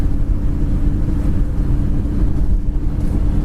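A 1955 Ford Crown Victoria with dual exhaust driving down the road, a loud low rumble blended with road and wind noise, steady and close throughout with no talking.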